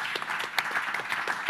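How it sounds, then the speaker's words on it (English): An audience at an event on innovation in crisis response claps together, dense steady applause with sharp individual claps standing out, close and loud for a brief stretch. "Yes, you may applaud for all this fantastic work being done."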